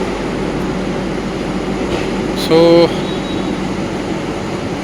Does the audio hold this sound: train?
yes